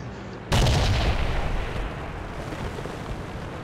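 A single heavy artillery blast from a Panzer in a tank battle game, a sudden loud boom that hits hard and then decays into a long rumbling roar lingering for a few seconds.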